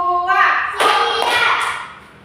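Children in a classroom doing an ice-breaking counting clap game, with a few sharp bursts of hand claps between excited young voices chanting along.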